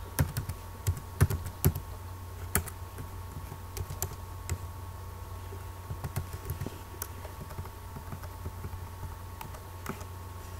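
Rapid, uneven clicking of keys on a computer keyboard, close and fairly quiet, with scattered louder taps and brief pauses over a steady background hum.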